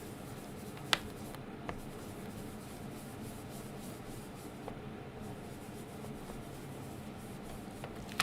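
Twisted Citron ink is blended onto a paper card, giving a soft, continuous scratchy rubbing with a few small taps, quiet and close, with no talking.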